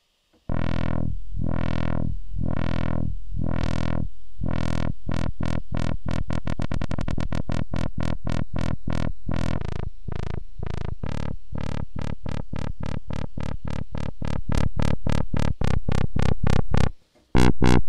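A looped, modulated electronic effect tone repeats as swelling pulses that speed into a rapid stutter, then settle into a steady pulsing loop with shifting pitch, loud and distorted, with no voices.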